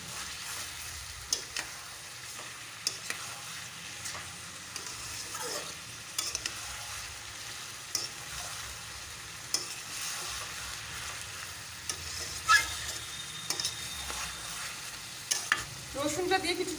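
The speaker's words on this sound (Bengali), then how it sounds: "ভালো করে রসুনটা আবারও ভেজে নিচ্ছি।" Garlic paste and onions fry in oil for a mutton dish, a soft continuous sizzle with frequent stirring scrapes and occasional utensil taps, close but fairly quiet.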